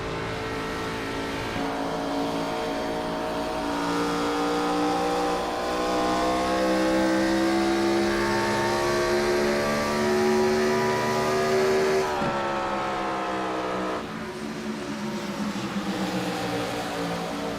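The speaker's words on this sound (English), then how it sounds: "Mefford driving that race car with the throttle big time." A Gen 4 Cup race car held at full throttle around Darlington, its engine a loud, sustained rising roar with a shift-like drop near the end, heard close and without talk.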